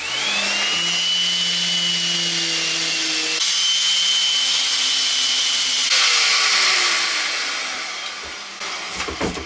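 A power sander runs continuously with a high whine against a broken 1950s oak chair, its pitch stepping as pressure changes, then winding down with a few scraping knocks at the end.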